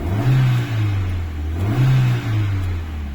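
A Toyota Corolla engine with a faulty PCV valve revs as the gas pedal is pressed, rising and falling in two loud, close swells over a steady idle.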